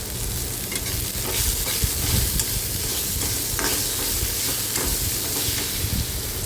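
Tomato, onion and salt sauté in a pan while being stirred for a Maharashtrian bhendi bhaji, making a loud, continuous close sizzle with spatula scrapes and no voices.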